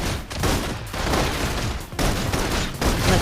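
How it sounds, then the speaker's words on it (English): Rapid bursts of sci-fi gunfire in the mobile video game Love and Deepspace, loud dense volleys broken by brief gaps, with no speech. "Requesting full suppression gunfire."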